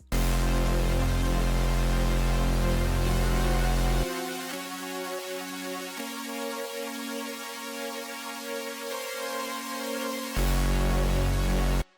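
A dense, buzzy synthesizer preset called Carnage sounds loudly in FL Studio, thinning out in the middle into higher sustained tones before the heavy full sound returns and cuts off.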